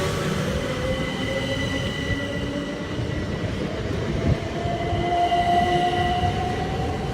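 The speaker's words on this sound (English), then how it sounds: "Dover Priory train now departing Ashford International" A train to Dover Priory pulls out of Ashford International, platform 5, rumbling steadily with long drawn-out wheel squeals and rising motor whine, close by and without talk.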